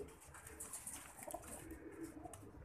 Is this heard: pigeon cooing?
yes